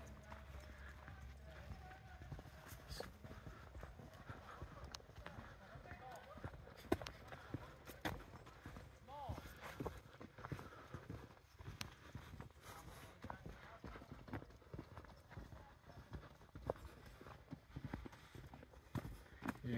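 Horse hooves walking on a forest trail in the El Rosario monarch butterfly sanctuary in Michoacán, Mexico: faint, irregular clip-clop steps throughout, under steady talking and outdoor background noise.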